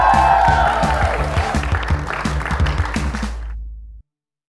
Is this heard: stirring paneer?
no